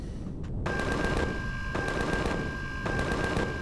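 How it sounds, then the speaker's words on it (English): Rapid gunfire from Empyrion Galactic Survival rattles on continuously in repeated bursts, with a steady tone running underneath. "Still shooting at something way over that way."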